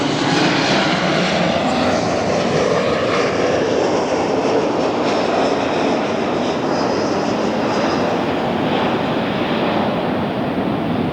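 A Southwest airliner arriving from Oakland touches down at LAX, a loud, sustained roar of jet engines and rushing air heard from nearby, steady across the whole stretch with a slight fade at the very end.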